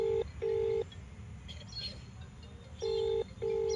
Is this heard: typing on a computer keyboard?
no